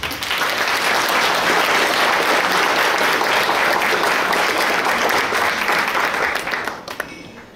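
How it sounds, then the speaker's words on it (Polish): Sustained, dense applause from an audience at a Warsaw high school's studniówka prom ball fills the room for about seven seconds before tapering off at the end. "Wielkie brawa dla organizatorów"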